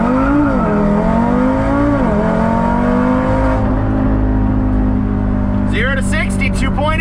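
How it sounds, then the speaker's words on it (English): A tuned Audi RS3 with a stock turbo and Unitronic tune launches hard and accelerates from 0 to 60 mph, its loud engine note climbing through quick gear changes, with excited voices breaking in near the end. "0 to 60, let's do this."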